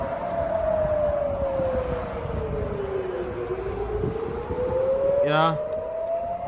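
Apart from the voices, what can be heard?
rocket warning sirens in Tel Aviv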